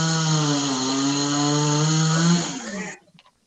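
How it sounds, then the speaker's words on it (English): A chainsaw sound effect plays loudly from an Alexa smart speaker, a steady droning buzz for nearly three seconds that cuts off abruptly. "Alexa, play chainsaw sounds."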